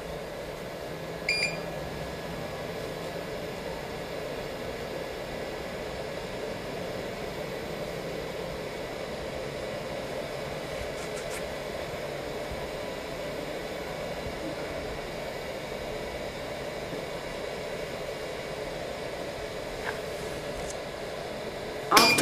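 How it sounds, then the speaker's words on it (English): An iPhone cover vacuum sublimation press runs its pump steadily, a continuous whirring hum with airy hiss holding at an even level throughout, with a brief click near the start and another at the end. "Cover the machine and press vacuum."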